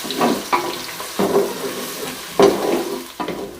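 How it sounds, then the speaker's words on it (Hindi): Garlic, ginger and onion sizzle in a pan, broken by several sharp bursts as the mix is stirred and tossed, close and fairly loud with no talking. "यहाँ पे हमने अच्छे से जो है लहसुन और प्याज को हमने फ्राई कर लिया"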